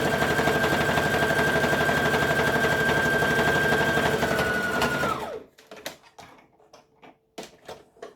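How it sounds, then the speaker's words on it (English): An overlocker sewing the curved hood seam of a hoodie runs in a fast, steady mechanical whir for about five seconds, then stops; a few sparse clicks and handling taps follow. "not only am I going to overlock this curve"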